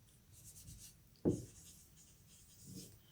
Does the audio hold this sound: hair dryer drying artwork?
no